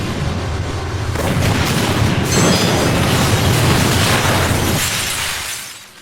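A missile silo blows up in a video game: a loud, sustained roaring blast with crackling, shattering debris that rumbles on for several seconds before dropping away.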